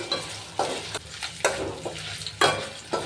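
Egg and potato pieces are stirred and roasted in a kadai. A spatula scrapes the pan in rhythmic strokes, roughly every half second, over a steady close sizzle of frying, with no talking.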